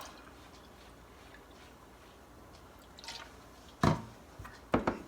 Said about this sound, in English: Pour in the vodka.